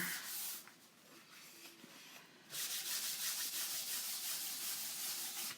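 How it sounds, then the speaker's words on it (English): Wax is rubbed onto a board ahead of a transfer, a steady close scratchy rubbing that eases for a moment and then resumes in a stronger, continuous stroke. "Just putting a thin coat of that wax between the board and the transfer."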